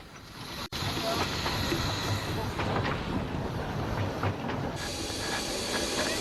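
A steam locomotive on the Cleethorpes Coast Light Railway rumbles in with a continuous loud hiss of steam and rolling clatter, a sharp click near the start, and faint voices around it.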